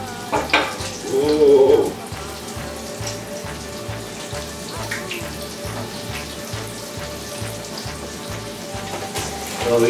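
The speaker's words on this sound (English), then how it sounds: "Okay, they're starting to fry good now." Breaded tomatoes sizzle and fry steadily in a pan, a continuous close crackle running throughout with a brief voiced exclamation near the start.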